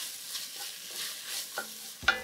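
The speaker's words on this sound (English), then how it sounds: "You're basically frying this until the onion's soft." Soft sizzling of onions and tomato paste frying in a pan, with a spoon stirring and scraping briefly, ending in a sharp clink.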